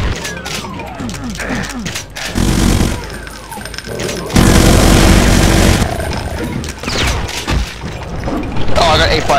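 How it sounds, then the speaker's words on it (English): A minigun in Doom with the Brutal mod roars in loud, sustained bursts of rapid fire, broken by short pauses between the volleys. "Finally, I get a minigun."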